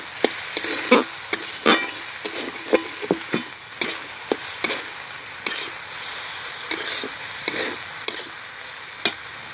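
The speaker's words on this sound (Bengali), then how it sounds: "এবার এর মধ্যে আমি পরিমাণ মতো নুন দিয়ে দেবো। ভালো করে নেড়ে চেড়ে নেব।" Boiled potatoes mashed and stirred with salt in a pan, a steady run of close, sharp spoon clicks and scrapes against the pan over a soft background hiss, no voices.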